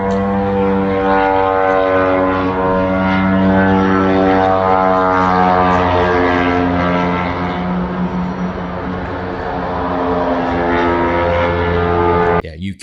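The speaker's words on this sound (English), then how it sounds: "these FP drones, these Firepoint drones, maneuvering through Moscow airspace" Firepoint FP drones over Moscow give a loud, steady propeller drone with a strong buzzing harmonic whine that holds for about twelve seconds and wavers slightly as they pass overhead.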